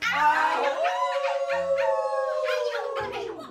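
A dog howls in one long, drawn-out wail rising and then falling, close and loud, with a brief yip at the start; a comedy sitcom scene.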